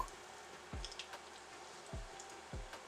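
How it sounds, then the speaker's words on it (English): Saltfish fritters frying in oil on medium high heat, a soft steady sizzle with a few low thumps and faint pops, fairly quiet and alone. "We're frying these on medium high heat for about 4 minutes on each side."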